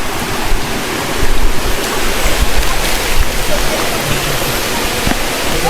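Rushing water flows steadily nearby at a tilapia farm, a loud continuous wash with occasional surges.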